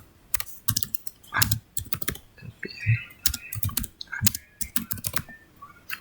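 Typing on a computer keyboard, quick irregular clacks in short bursts with brief pauses between, close and fairly quiet, no talking.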